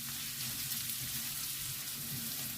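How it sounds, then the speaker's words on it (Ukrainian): Chopped onion and carrots sizzle in a pan, frying for a vegetable soup without meat, a soft, steady hiss with no break and no voices. "І теж посмажуємо з морквою цибульку"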